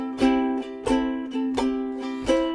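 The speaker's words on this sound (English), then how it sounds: "we're going to just be doing a down up strum like this" Bright plucked soprano ukulele chords strummed down and up in a steady shuffling rhythm, four accented strokes ringing close and clear with no voices.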